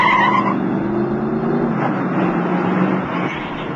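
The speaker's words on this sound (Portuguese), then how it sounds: "Chegou o Ford Maverick com o lançamento com direito a Emerson Fittipaldi acelerando em Interlagos." Archival Ford Maverick racing at Interlagos with Emerson Fittipaldi at the wheel, its engine roaring steadily and loud throughout, with a brief tire-like squeal near the start.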